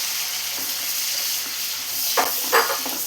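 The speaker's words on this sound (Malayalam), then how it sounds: "വെളുത്തുള്ളി എല്ലാം ചെറുതായി ഒന്ന് ഫ്രൈ ആയി വരുന്നുണ്ട്" Garlic fries in a pan for a chilli mushroom dish, giving a loud, close, continuous hissing sizzle, with a couple of brief scraping stirs near the end.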